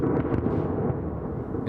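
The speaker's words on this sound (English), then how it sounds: "In Mariupol, the besieged port city, explosions can still be heard." Dull rumbling explosions in the besieged port city of Mariupol, Ukraine, a continuous low boom and roll with no distinct sharp cracks, fairly loud and heard alone.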